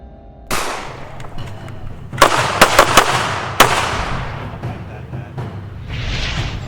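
Handgun shots ring out during a defensive training drill at a tactical defense range, several sharp bangs close together in a quick burst, the first alone and then a tight cluster of three or four, with a short echoing tail.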